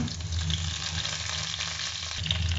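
Garlic and curry leaves fry in hot oil, giving a steady, close, crackling sizzle with a faint scrape or two and no voices.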